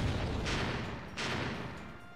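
Two muffled explosions go off about a second apart in the PS Vita game Code: Realize, each a soft burst over a steady low rumble.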